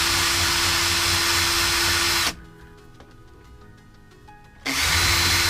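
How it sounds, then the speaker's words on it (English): Power drill whirring loudly as it bores through a tennis ball, running steadily for a couple of seconds, pausing into near quiet with faint clicks, then spinning back up at full volume. "Once you got the whole drill completely through, you want to widen the hole a little bit."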